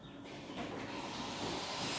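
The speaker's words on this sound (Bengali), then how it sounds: "পাটিসাপটার গল্লাটা ঢেলে দিলাম।" Patishapta batter poured onto a hot tawa greased with a little ghee, giving a steady, close hiss that swells slightly toward the end, with no talking.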